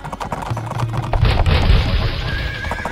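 A horse in the video game Age of Empires gives a loud, close whinny, with clopping hooves and battle noise around it.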